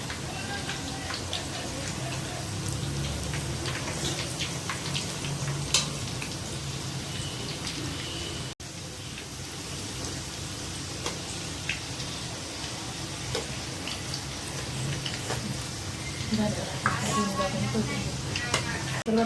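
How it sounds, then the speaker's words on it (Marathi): Karanji pastries deep-frying in hot oil, a steady dense sizzle and bubbling that runs throughout with occasional stirring clinks, close by. "आपण असं करंजा तळून दिलं."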